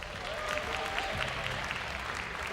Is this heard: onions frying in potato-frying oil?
no